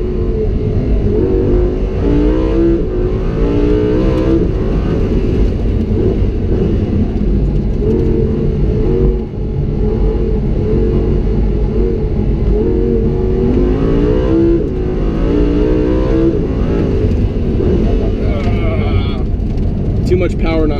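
A Lamborghini Huracan engine roars loudly and continuously as it revs and shifts between third and fourth gear on a short figure-eight track, pitch rising and falling with acceleration and braking, while someone talks over it.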